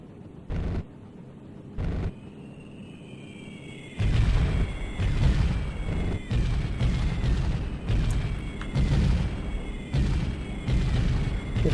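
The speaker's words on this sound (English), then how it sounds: "let's just go for artillery" Artillery fire support in the helicopter game Comanche Gold: after two brief distant thumps, a long run of heavy, rumbling booms lands one after another, loud and sustained, with no talk.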